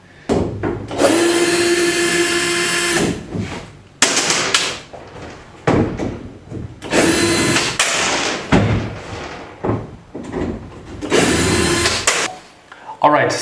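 Power drill backing screws out of wooden canoe gunwales, a series of loud whirring bursts separated by short pauses, close to the microphone, with some talking between bursts.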